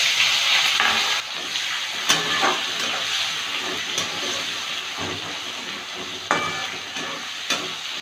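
Whole garam masala and chopped tomato fry in a pan with a steady close sizzle and hiss. Occasional scrapes and knocks from stirring break in throughout.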